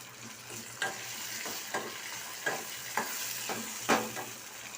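Chopped tomato sautéing in a pan for a carrot gravy, a steady soft sizzle punctuated by about six sharp spoon scrapes and stirs at irregular intervals, close and alone without talk.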